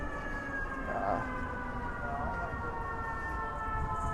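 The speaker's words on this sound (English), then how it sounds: "it's a combination of sirens going by" A faint, steady siren tone drifts from a distance over dull city rumble, holding its pitch with little change.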